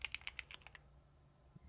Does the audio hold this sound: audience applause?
no